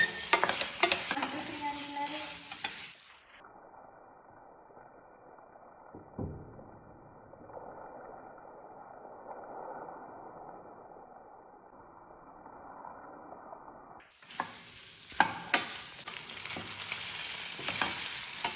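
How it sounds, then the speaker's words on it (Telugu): Chicken pieces with mint leaves cooking in oil in a pan, a close stirring sizzle at the start and end with a long muffled, quieter stretch in between. "పీసెస్తో పాటు పుదీనా వేసేసి ఇవి మగ్గేంత వరకు అలా వదిలేద్దాం"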